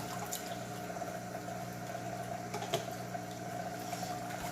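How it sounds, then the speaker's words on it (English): Steady churning and rushing of water in a hydroponic reservoir as nutrient solution is mixed in, a constant moderate wash with faint pump hum underneath and no voices. "Let's pour it right where the water is the most churned."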